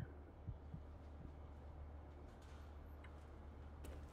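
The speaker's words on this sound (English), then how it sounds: "my heartbeat is going" Heartbeat effect from the video game Fallout: New Vegas, a few low muffled thumps early on, then steady low throbbing hum under faint game ambience.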